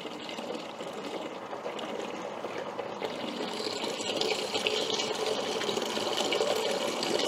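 Water from a garden hose splashes steadily during beer brewing, a continuous hissing wash of spray that grows slightly louder toward the end, with no voices.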